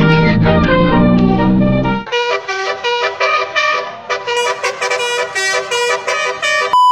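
A Honda Brio car in Hot Wheels livery passes on a street and honks a loud musical horn, the low motor noise dropping away into a series of bright repeated tones.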